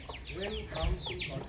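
Several chickens cluck close by while feeding on cooked rice and rice gruel, with short repeated calls and soft pecking over a quiet background.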